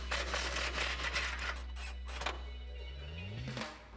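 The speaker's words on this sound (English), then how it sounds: "grab your 21 deep socket and extension and get these off" A 21 mm deep socket on an extension working loose the bumper nuts on a 2015-2020 Ford F-150, a steady close mechanical whir with clicks, rising in pitch near the end.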